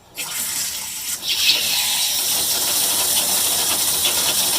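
Hot water gushes steadily from a plumbed tap, a loud, broad hissing rush that starts abruptly and keeps flowing without a break.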